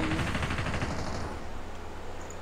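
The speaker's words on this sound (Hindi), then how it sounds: "गोलियां चल रहा था अभी अभी" Rapid automatic gunfire from the video game Call of Duty Mobile rattles in a loud, dense burst that fades slightly toward the end.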